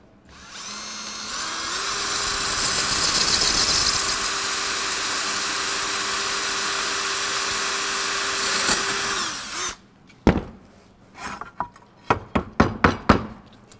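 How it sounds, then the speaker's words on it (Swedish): A ceramic tile drill bit spun by a power drill at low gear bores steadily through bathroom tile for about eight seconds of loud, even whine, then stops, followed by a string of sharp knocks and handling clatter. "Vi börjar med den här eminenta kakelborren och ser hur den vill gå igenom."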